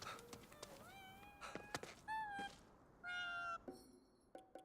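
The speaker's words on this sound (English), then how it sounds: "Oh, a cat!" A cat in the video game Ghostwire: Tokyo gives a quick run of four or five short, clear meows, some rising in pitch, close and alone over a quiet background.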